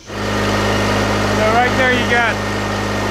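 A John Deere 318 lawn tractor engine runs steadily at a fairly revved idle, close and loud throughout, with someone talking briefly over the constant hum.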